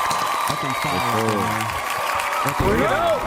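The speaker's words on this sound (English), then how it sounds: "get a Lord a round of applause for that" An audience applauds at a live talk, with a steady wash of clapping running beneath loud voices and a rising whoop that sit on top of the applause.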